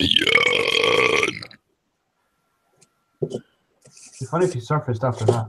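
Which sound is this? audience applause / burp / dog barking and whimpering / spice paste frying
burp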